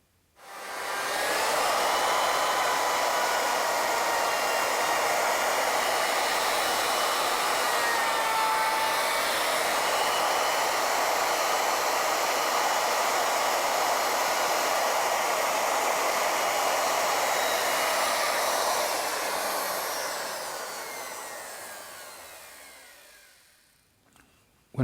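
A router bit milling a taper into square wood stock on an ornamental milling setup gives a steady, loud, high whine that holds for about twenty seconds, then spins down to silence, with no talking.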